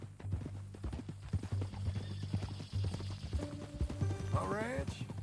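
Horse hooves clip-clop steadily in Red Dead Redemption 2, with a horse whinnying near the end while game characters talk over the hoofbeats and a low background drone runs throughout.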